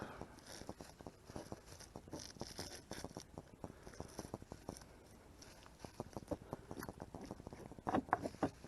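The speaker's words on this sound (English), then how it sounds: "just take you a big tablespoon, scrape all the scales off" A big tablespoon scrapes the scales off a whole crappie, making quiet, rapid, rasping strokes in uneven bursts close up, with a few louder scrapes near the end and no voices.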